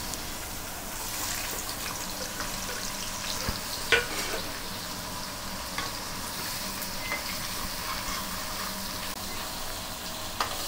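A chopped onion fries in oil in a kadai with a soft, continuous sizzle and crackle, a few faint clinks standing out, heard quietly and alone.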